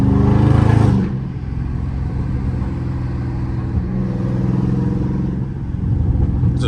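A loud Dodge Charger Scat Pack drives at night with its gas cap open, its engine a steady, throaty drone close by, with a brief rev at the start and a swell near the end.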